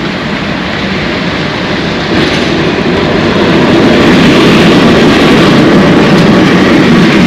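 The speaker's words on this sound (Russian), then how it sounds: "А поезд все-таки пассажирский." A loud, continuous roar of a passing passenger train builds and swells, a dense rumbling rush that grows stronger toward the end, in Lazarevskoye, Sochi.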